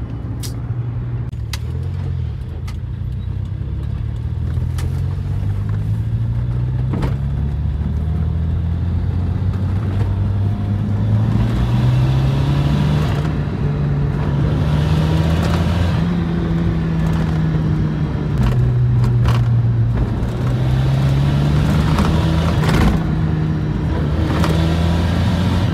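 A 2017 Toyota Corolla engine runs steadily and fairly loudly throughout, its low hum rising and falling in pitch as the car revs and cruises, with a few brief clicks and knocks on top.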